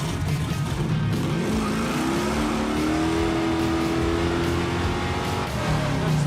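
A loud, sustained rev from the LS-swapped 1974 Chevrolet El Camino engine, its pitch climbing and then holding high in a steady roar with no talk over it.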